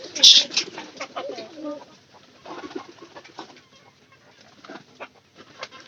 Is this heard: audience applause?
no